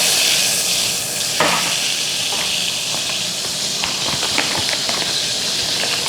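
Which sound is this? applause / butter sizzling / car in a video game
butter sizzling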